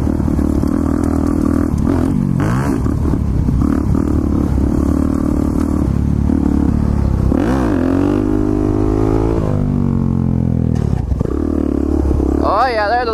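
A pit bike engine roars loud and close as the rider races toward a jump, its pitch swooping up and down with throttle changes under rushing wind, while excited voices talk over it.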